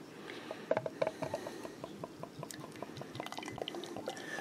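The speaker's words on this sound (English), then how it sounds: "And then I'm going to pour it into the Come Take This glass." Surly Furious black IPA pours steadily into a glass, with a close, continuous stream full of fizzy bubbling and small splashes.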